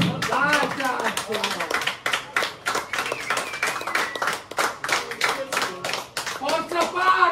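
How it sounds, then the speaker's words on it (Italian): A rock club crowd claps and cheers after a rock and roll band's set, a loud, dense patter of hands with shouts and voices mixed in, rising and falling across the clip. "Un applauso, dai, un applauso!"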